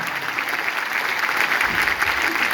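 Audience clapping at a Hindi poetry recitation, a dense, steady patter of applause at an even moderate level with no pauses and little else over it.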